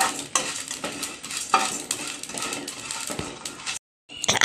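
Rice being dry-roasted and stirred in a pan, with steady scraping, rattling grains and metallic clinks of the spoon against the pan, loud and close, with a brief pause near the end.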